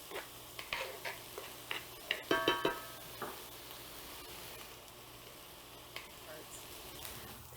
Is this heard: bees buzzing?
no